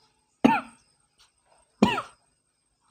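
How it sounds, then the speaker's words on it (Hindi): A person coughs twice in close succession during a spoken maths lesson, each a short harsh burst followed by silence, with a third cough just beginning at the end. "थोड़ी खांसी आ रही है"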